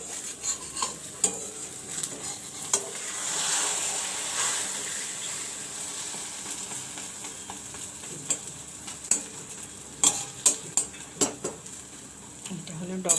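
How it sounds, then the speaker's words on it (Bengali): An egg frying in a pan in a home kitchen, a steady soft sizzle running throughout with scattered clinks and scrapes of a utensil against the pan, close and moderately quiet. "একদিকটা ভালো করে ভাজা হয়ে গেলে"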